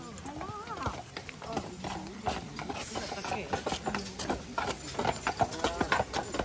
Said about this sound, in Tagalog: Ang lalaki ng kabayo talaga.